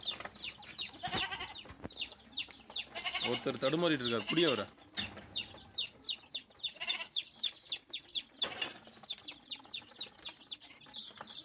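Hens and small chicks cluck and cheep around a farmyard, a rapid chatter of high peeps with a few louder hen clucks mixed in, while people talk nearby.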